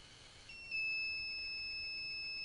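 An Arduino buzzer, triggered when an LM35 temperature sensor reads 29.3 degrees while being heated, switches on half a second in and holds a steady, piercing electronic tone through the rest, clear and alone with no talk.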